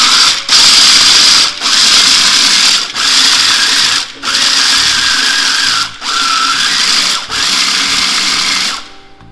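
Toasted peanuts whirring in an electric grinder, loud and close, running in about seven steady bursts separated by brief pauses.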